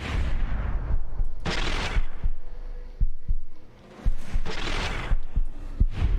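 Gunfire from the player's weapon in the post-apocalyptic video game Fallout, with several loud close shots and heavy booms spread unevenly over a rumbling background.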